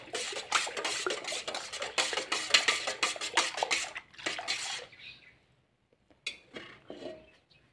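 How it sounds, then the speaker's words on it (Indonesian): Homemade pesticide mixture stirred briskly in a container until it foams, a dense run of rapid scraping and splashing strokes that stops near the end, followed by a few scattered clinks. "Oh ya ini diaduk dulu, lupa teman, diaduk memang"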